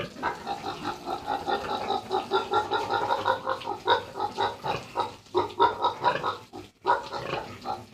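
A pregnant pig, two months along, grunts and snorts continuously up close, a loud rough rhythmic series of oinks with brief breaks near the end and no talking.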